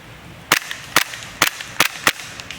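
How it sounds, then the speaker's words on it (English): KWA HK USP gas blowback airsoft pistol firing five sharp snapping shots at an even pace, close and crisp, with slide clacks after each and no talking. "Let me take a few more shots until it locks up."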